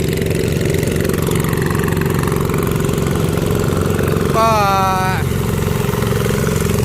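A small paddy-treading tractor engine runs steadily and loudly throughout in a village near a wall, with a brief voice speaking over it partway through.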